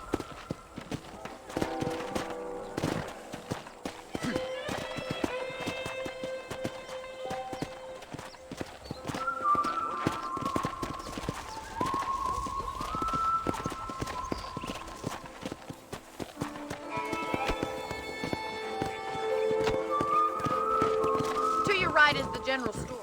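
Horse hooves clip-clopping at a steady walking pace on a ranch in the Red Dead Redemption video game, moderately close, with game music tones and someone talking over them.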